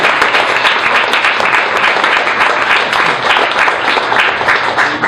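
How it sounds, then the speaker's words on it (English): An open mic audience gives a round of applause for ten readers, loud and dense continuous clapping from a crowd sustained evenly throughout. "everybody give a round of applause to our 10 readers tonight."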